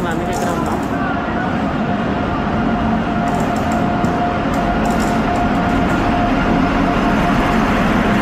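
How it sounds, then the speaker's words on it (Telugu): A train rumbles into a railway station on the Vizianagaram to Hyderabad route, a steady loud roar of wheels with a faint whine, while people talk nearby. "మనం చూడండి ట్రైన్."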